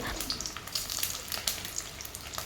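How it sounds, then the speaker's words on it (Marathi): Egg whites frying in hot oil for an egg dish, a faint, busy crackle and hiss with scattered small pops, close but soft, no talking. "तो मी टाकून घेणार आहे आणि तेलामध्ये छान असं परतून घेणार आहे"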